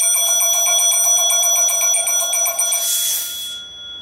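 A respirator air bottle's low-pressure alarm: a rapid, continuous electronic ringing with a steady high-pitched trill, followed by a brief rush of hissing air.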